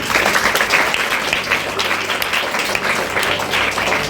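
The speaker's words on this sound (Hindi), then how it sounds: "सबसे पहले इनके लिए ताली बजानी चाहिए।" Dense, loud audience clapping at a farewell and felicitation gathering, continuous for about four seconds with no pause.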